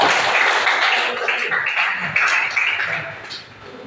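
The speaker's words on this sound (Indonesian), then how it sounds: "Tepuk tangan untuk kelompok 1." A classroom applauds a student group after its presentation, with uneven clapping that swells and dips in bursts before thinning out toward the end.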